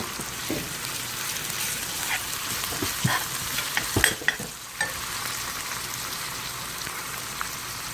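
Onions sizzle steadily in a pan, cooked down close to browning, a constant crackling hiss with occasional soft pops and light stirring scrapes throughout.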